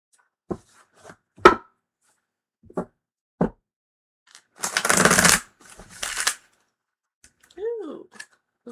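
Tarot cards being shuffled by hand, with scattered sharp taps and flicks, a dense riffling burst in the middle, then softer rustling before a short voiced sound at the end.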